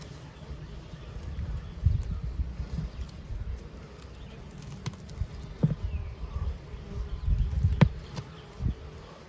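Honey bees buzzing around an opened Layens hive, a steady low hum with individual bees zipping close by now and then.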